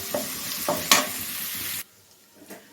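Mutton cooking with onions in a pan for a mutton chilli curry: steady loud sizzling with a few stirring scrapes, cutting off abruptly partway through and leaving quieter faint stirs.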